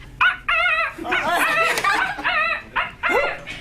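A person vocally imitates a rooster's crow in a Japanese comedy impression act, producing several loud, strained, warbling cries in quick succession with short gaps between them.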